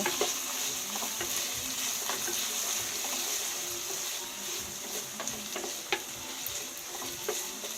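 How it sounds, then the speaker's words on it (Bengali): Potatoes fry in oil in a pan for mutton charbi ghugni, a continuous close sizzle with occasional stirring scrapes and small pops, without any talking. "এবার এখানে আলু ভালোভাবে ভাজবো।"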